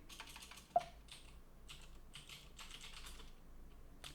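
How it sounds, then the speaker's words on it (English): Keystrokes on a computer keyboard entering a command, a steady run of quiet, close clicks in short bursts with one sharper tap near the start, no voices. "we're going to type the command snapraid"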